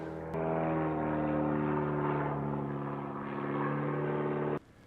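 A loud, steady propeller-engine drone with a deep hum fills the clip, holding a constant pitch before cutting off abruptly near the end.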